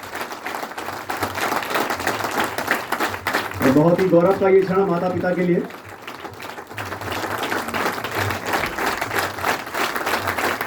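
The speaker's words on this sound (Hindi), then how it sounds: "मैं चाहता हूं कि जोरदार तालियां बजती रहें।" Sustained applause from an audience at a university National Sports Day celebration. Steady clapping runs throughout, and someone speaks over it on a public address system partway through.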